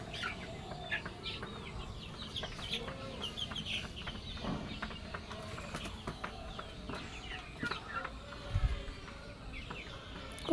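Chickens in a small poultry coop cluck and chatter quietly over low background noise, with a few louder calls near the end.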